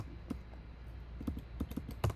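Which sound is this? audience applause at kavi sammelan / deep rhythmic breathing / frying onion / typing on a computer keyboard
typing on a computer keyboard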